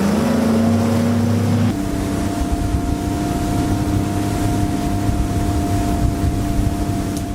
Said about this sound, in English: Let's rip it.